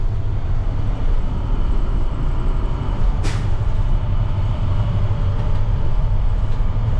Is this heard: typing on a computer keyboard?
no